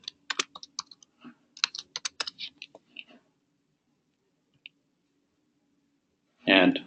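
A bill number is typed on a computer keyboard in a quick burst of close key clicks, then a pause, a single tap, and a louder rustling sound at the end.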